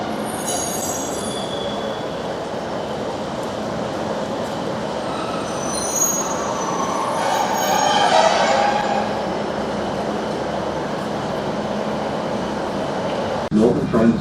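A Northern passenger train to Bishop Auckland rolls along with steady rumble and clatter, wheels squealing briefly midway, and a voice speaking faintly over the noise.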